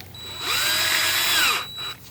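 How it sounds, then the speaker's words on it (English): An electric drill spinning a rusty lawn mower part spins up, whirs loudly for about a second, then winds down, followed by a short second burst. "I'm just going to put it in the end of my drill"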